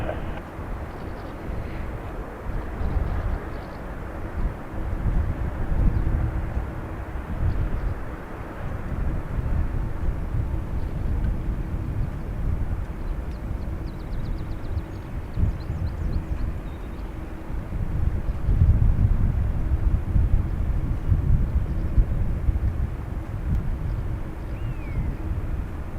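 Airplane at Dublin Airport, heard as a steady, distant low rumble of jet engines that swells slightly toward the end, with wind noise and no talk.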